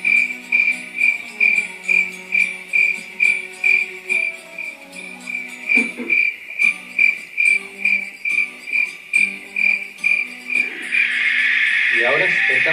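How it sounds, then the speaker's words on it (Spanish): Crickets chirp in a steady pulsing rhythm, loud and close, the high trill repeating about twice a second before a denser buzz rises at the end. "Volvemos hoy otra vez los sonidos de la noche, el grillo."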